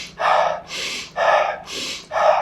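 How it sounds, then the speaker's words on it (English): Forceful rhythmic breathing in a Wim Hof style exercise: four deep, rushing inhale-exhale cycles close to the microphone, steady and evenly paced with no talking. "like Wim Hof breathing"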